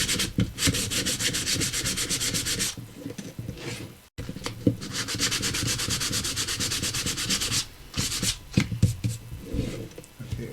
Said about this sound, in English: a little piece of sandpaper will work here.